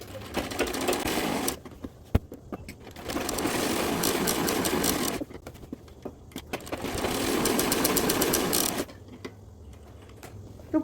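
A sewing machine stitches the seam of a salwar's waistband, running in three close, steady mechanical bursts of rapid needle clatter with short pauses between them.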